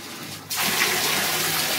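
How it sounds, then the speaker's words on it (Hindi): Dirty, foul-smelling water gushing from a tap: silence, then an abrupt burst of close, loud running water that continues steadily. "उनको दिखा तो दे कैसा गंदा पानी आ रहा है"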